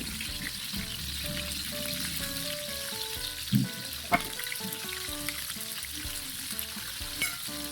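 Cooking oil sizzles and crackles steadily in a pan for sautéed bottle gourd, a close, continuous frying hiss with a few sharper pops and stirring clinks, no voices over it.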